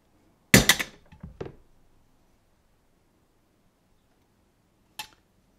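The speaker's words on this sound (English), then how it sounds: "we'll hammer the holes home." A quick burst of three or four sharp metallic hammer strikes punching holes in a custom metal battery hold-down for a Suzuki DR650 motorcycle, then silence, then one more single hit a few seconds later.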